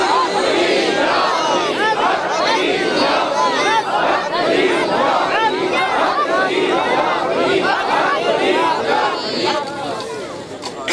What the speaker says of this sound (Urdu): اس نعرے کو پرجوش ہو کر لگائیں، اللہ محمد 4 یار حاجی خواجہ قطب فرید